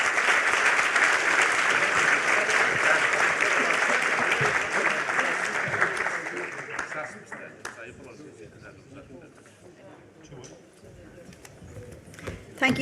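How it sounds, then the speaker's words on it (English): Audience applauding the panelists at an EU capital markets conference, a dense sustained clapping that gradually thins out and fades to scattered claps by the end. "I hope you can all give a big round of applause for our panelists"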